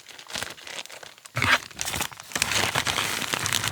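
Rawhide dog-chew pieces dropped into a plastic Ziploc bag, giving a series of close, irregular crinkles and rustles with a louder crunch partway through.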